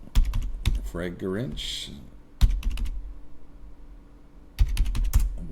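Keys clatter on a computer keyboard as a search is typed into a shopping portal, in short bursts of clicks separated by pauses, with someone talking briefly in between.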